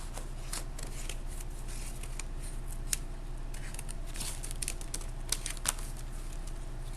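Scissors snip paper cut from old greeting cards for a children's art project, a close run of crisp small cuts repeating steadily, with no talking.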